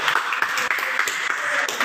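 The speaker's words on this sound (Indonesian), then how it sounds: "Tepuk tangan untuk kita semua." A small counseling group claps together in a room, a steady patter of hands lasting under two seconds with no pauses, fairly close and even in loudness.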